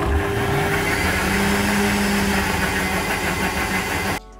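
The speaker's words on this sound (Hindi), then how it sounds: "बहुत अच्छे से इन सबको हम ब्लेंड करेंगे" A blender runs at a steady, loud motor whir while blending pineapple, apple, oats and water, then cuts off abruptly near the end.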